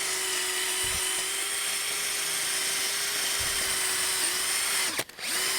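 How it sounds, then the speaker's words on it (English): A cordless drill fitted with a cup-style wire brush spins steadily against a truck wheel hub, holding one even, close whine for several seconds before briefly dipping and recovering near the end. "just using just a cordless drill with a cup style wire brush on it"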